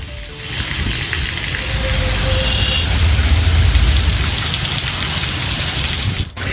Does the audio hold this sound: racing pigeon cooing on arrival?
no